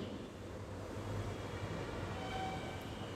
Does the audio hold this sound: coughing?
no